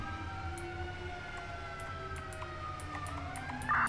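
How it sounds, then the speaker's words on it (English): An emergency vehicle siren wails in a steady, continuous tone over a low road and engine rumble, with no one talking, a brief harsh burst near the end. "They don't get to use their sirens much."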